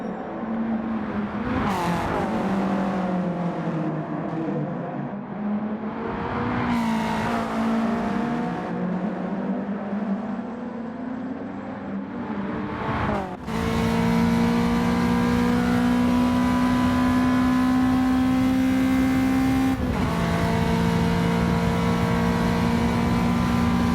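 Race cars in a racing video game roar as their engines climb steadily through the gears, with upshifts and a sharp cut to a louder, higher-pitched engine note that keeps rising, with no voices.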